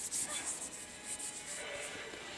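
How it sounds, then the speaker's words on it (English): A hand rubs corn starch into a surface with quick, repeated scratchy strokes, close and fairly soft, without speech. "And then you just rub it all in."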